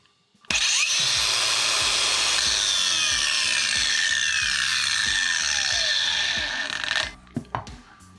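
A Procraft PGA20 cordless angle grinder whines up to speed and runs steadily at a high pitch for several seconds, then spins down with a few clunks at the end.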